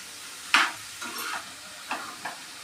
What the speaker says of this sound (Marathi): हा कांदा आपण ब्राऊन होईपर्यंत परतत राहायचा.